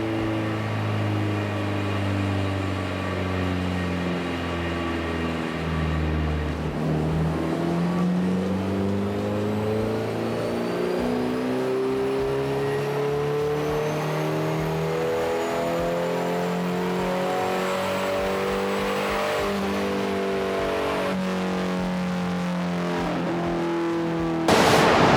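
A Subaru BRZ with a swapped Honda K24 engine runs on a dyno indoors, a loud steady engine drone with rising and falling revs, harmonic whine climbing and easing throughout and a brief surge near the end.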